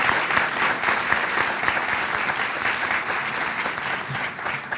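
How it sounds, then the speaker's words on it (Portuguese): An audience at an investigative journalism congress tribute claps steadily, a dense, sustained round of applause filling the hall for about five seconds without speech. "Por favor, uma salva de palmas."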